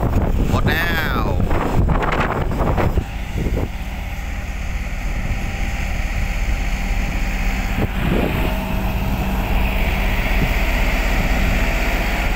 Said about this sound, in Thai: ลมแรงครับสายฝนก็โปรยปรายลงมาตลอดเวลา